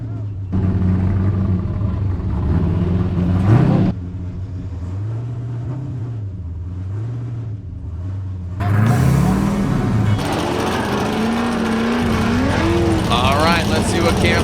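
A Formula Drift Pro Spec car at Road Atlanta fires up and runs, its engine rumbling and revving loudly with rising and falling pitch, while people talk over it.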